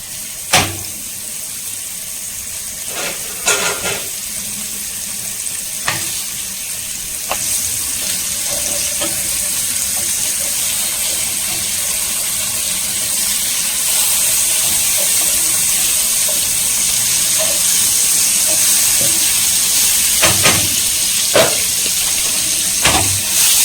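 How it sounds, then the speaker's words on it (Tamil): Masala gravy sizzles and simmers over a high flame, a steady hissing bubble filling the whole stretch, with a few sharp clinks and scrapes of a utensil against the pan scattered through it. "ஹை ஃப்ளேம்ல வந்து சிம் பண்ணிட்டேன்"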